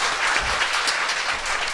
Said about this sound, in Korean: 손 대표님에게 박수 부탁드립니다